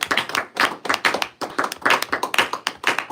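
Clapping from a small religious study gathering comes in uneven bursts of several hands, close and punchy, swelling and dipping rather than forming a continuous roar.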